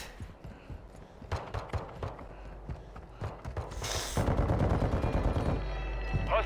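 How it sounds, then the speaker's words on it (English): Rapid machine gun fire in a Call of Duty match, loud bursts of quick cracking shots repeating through the stretch and growing denser and heavier toward the end. "Find that machine gun again. And I'm killing them with that."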